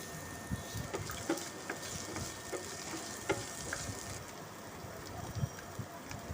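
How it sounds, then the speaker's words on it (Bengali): Chopped onion, green chili and garlic sizzle steadily in hot oil in a wok, a close continuous frying crackle with occasional stirring scrapes and louder pops, no voices. "রসুন পেঁয়াজ এগুলো ভাজা ভাজা হবে হালকা"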